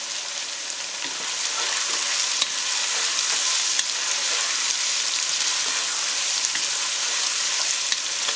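Vegetables and chicken fry steadily in a pan for a pulao after coarsely cut green chillies go in, giving a loud, continuous sizzle with faint stirring scrapes and no pauses.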